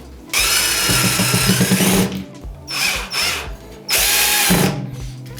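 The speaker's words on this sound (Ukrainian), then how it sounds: "Давайте спробуємо, як працює з маленькими меблевими саморізами." A cordless screwdriver drives small furniture screws in three close, loud bursts of whirring motor noise with clutch ratcheting. The first burst is the longest, followed by two shorter runs.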